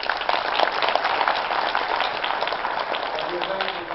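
Audience at a county commissioner candidates' forum breaks into sustained applause to welcome the candidates, a dense, even wash of clapping with voices mixed in.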